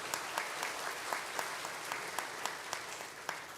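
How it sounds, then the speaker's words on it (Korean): Congregation clapping in a church at the close of a Sunday afternoon mission service, a steady dense patter of many hands at moderate distance with no voices over it. "큰 박수 한번 하시겠습니다."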